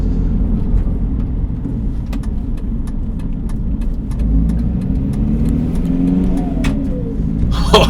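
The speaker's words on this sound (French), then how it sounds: "C'est difficile à dire avec le boucan que se fait ce moteur." A BMW 325ti diesel drones loudly from inside the cabin while driving in the rain, a steady rough low engine roar with faint clicks and a slight rise in revs near the end.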